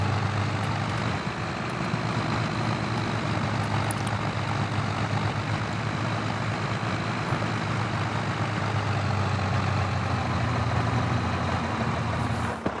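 A tractor pulling a small trailer in Farming Simulator 25 gives a steady, continuous engine drone that holds at an even level throughout, with no talk over it.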